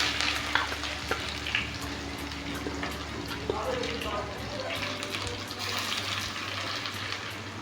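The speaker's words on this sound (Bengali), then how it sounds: "পেঁয়াজটা ভালোভাবে ভেজে নেব" Chopped onions fry in oil with cinnamon, cardamom, cloves, a dried chilli and cumin, making a dense, steady sizzle up close with occasional clinks of a spoon stirring throughout and a low hum underneath.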